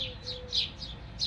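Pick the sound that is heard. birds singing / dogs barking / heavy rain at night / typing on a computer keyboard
birds singing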